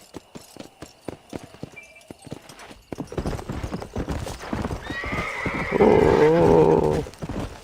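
A horse in Red Dead Redemption on PC, hooves clip-clopping in quick rhythmic beats that build into a gallop, then a loud drawn-out neigh near the end, with someone talking briefly over it.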